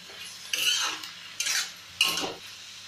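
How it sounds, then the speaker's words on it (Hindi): Salt is stirred into radish leaf sabzi in a pan: three distinct scraping strokes of a utensil against the pan, evenly spaced, close and moderately loud, with no talking. "अब इसमें हम नमक मिला देंगे और अच्छे से जो है मिला देंगे"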